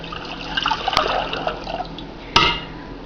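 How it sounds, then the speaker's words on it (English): A quart of water pours steadily into a stock pan in a kitchen, a continuous close splashing fill with a couple of sharp clinks. "I'm going to take 1 quart of water and pour in this stock pan."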